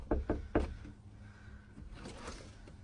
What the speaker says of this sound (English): So here we go, we're gonna knock.